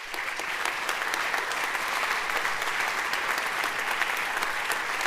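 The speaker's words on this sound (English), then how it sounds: "So please give a big applause for our gold sponsors." Large conference audience applauding gold sponsors from the center stage hall, a dense, even wash of clapping that holds steady throughout without talk.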